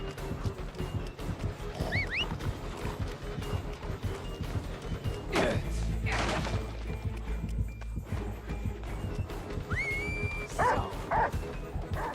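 Inside a multiplayer horror video game, a dog yelps and whimpers in short, high, wavering cries that come through a busy, cluttered game soundscape. A heavy thud lands partway through, and no one speaks.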